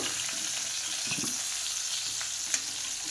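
Pointed gourd and potato pieces fry in oil for a pointed gourd and prawn curry, giving a steady, close sizzle with a few faint stirring touches and one brief click near the end.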